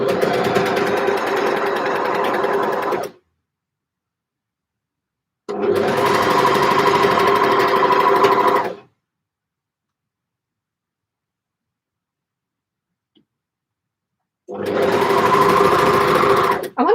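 A sewing machine fitted with a cutting blade runs in three long bursts of steady, loud, close whirring, separated by full silences.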